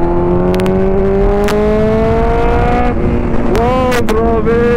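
A Kawasaki Z1000R motorcycle with a titanium exhaust and deleted catalytic converter revs loudly, pitch climbing steadily, then drops and surges again in quick bursts of throttle, close and prominent.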